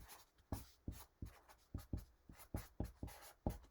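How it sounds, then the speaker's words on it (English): Pen on paper writing out algebra working by hand, a quick run of short scratchy strokes and taps at an uneven pace, close up and quiet with no talking. "So again, I'll just write that out like this."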